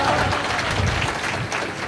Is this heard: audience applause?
yes